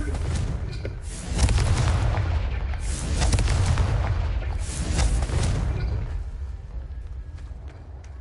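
A Confringo spell explosion in the Hogwarts Legacy video game, loud booming blasts rolling in successive waves and then decaying into a rumbling tail.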